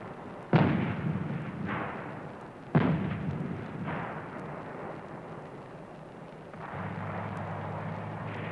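M109 self-propelled howitzer firing on a range: two loud, sharp booms a couple of seconds apart, each with a rolling rumble that trails off, followed by a steady low engine hum.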